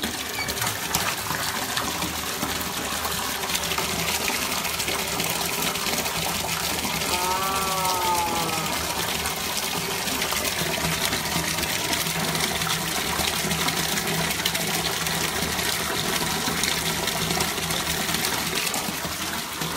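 Water pours steadily from a tap into a bathtub, a constant loud rushing gush lasting throughout, with a brief faint squeak or voice-like wobble partway through.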